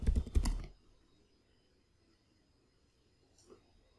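A quick burst of keystrokes on a computer keyboard while working in a Linux terminal, close and crisp, followed by near silence and one faint key tap.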